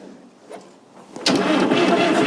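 A Fordson Super Major backhoe's diesel engine cranks briefly, then catches and roars to life, running loud and steady at close range.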